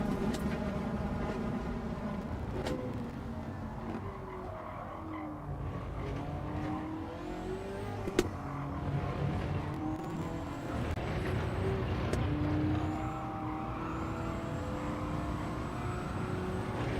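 Ferrari race car engine in a racing simulator game at Interlagos, a steady high-revving drone with shifting pitch as gears change, running continuously and loud with brief clicks over it.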